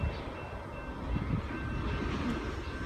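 A Norfolk Southern and CN freight train rolls past at a crossing in Fostoria, Ohio, giving a steady, broad rumble with faint high ringing tones, likely crossing bells, held at an even loudness throughout.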